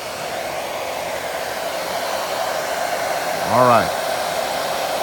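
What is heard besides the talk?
blow dryer drying hair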